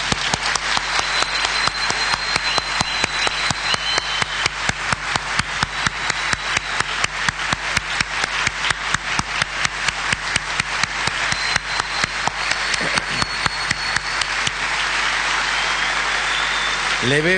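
An audience gives long, sustained applause to all the mothers at a live comedy show, dense clapping that runs loud and unbroken for the whole stretch before fading at the very end.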